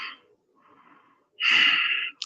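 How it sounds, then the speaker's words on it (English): Breathing during a yoga breathing exercise, with a soft exhale, then a faint breath, and then a strong, forceful nasal breath close to the microphone. "3 breaths."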